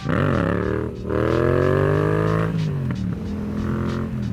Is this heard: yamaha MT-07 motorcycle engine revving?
yes